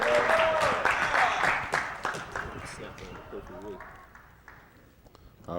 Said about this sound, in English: Give my Rilla a hand clap.